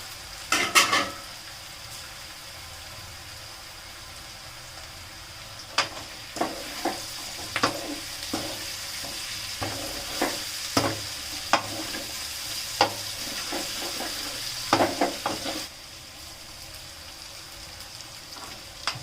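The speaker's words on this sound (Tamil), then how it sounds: "நம்ம ஆயிலில் ஃப்ரை பண்ணி வச்சு சிக்கனை போட்டுருவோம்." Chicken frying in oil in a pan for pepper chicken, with a steady sizzle under repeated scraping stirs and clinks of a utensil against the pan, fairly close.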